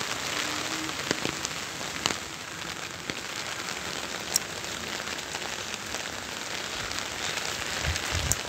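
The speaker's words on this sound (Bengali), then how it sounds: "দেখো বৃষ্টি পড়ছে।" Rain falls in windy weather, a soft steady patter with scattered sharper drips and taps, fairly quiet and with no voices.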